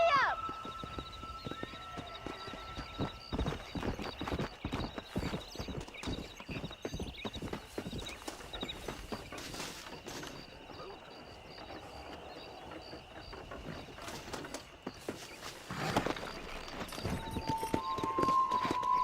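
Hooves clip-clop in a quick galloping rhythm throughout as a horse is ridden in the video game Red Dead Redemption, with a whinny near the start and another tone later, while a voice talks over the gameplay.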